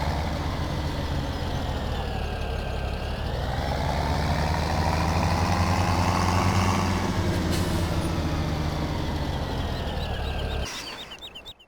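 A small farm tractor in old cream paint idles steadily up close, its motor holding a continuous low rumble for about ten seconds before cutting off abruptly near the end.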